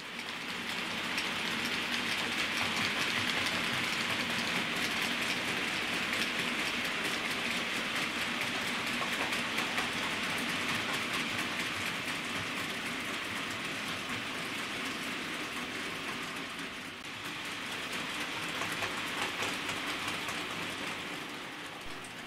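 British Rail Class 33 diesel locomotive 33029 hauling freight and passenger trains, heard as a steady broadband rumble and rolling wash of wheels on track that holds for about twenty seconds, with a slight dip near the end and no talk.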